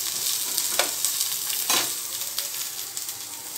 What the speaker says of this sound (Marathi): अशा प्रकारे हो कांदो लालसर काळपट व्यवस्थित भाजून घ्या